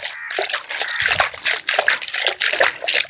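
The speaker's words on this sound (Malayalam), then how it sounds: "ഇനി ഇതിലേക്ക് ഒന്ന് വെറുതെ വെള്ളം നനച്ച് വെക്കണ്ട കേട്ടോ" Water trickles and splashes onto soil around newly planted onions, a steady close pour with small drips and sloshes throughout.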